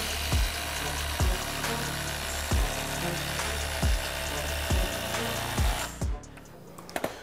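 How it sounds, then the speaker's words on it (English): Cordless impact drivers drive an 8-inch rugged structural screw, a dense rapid hammering rattle broken by about eight regular loud impact bursts, ending in a brief quieter pause with a few clicks. "we're going to run through an 8-inch rugged structural screw and then just a series of lag bolts"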